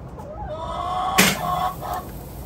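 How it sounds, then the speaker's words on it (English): Chickens cluck close by, with a short crowing call and a brief noisy burst midway. "If you can hear the sizzling over the chickens."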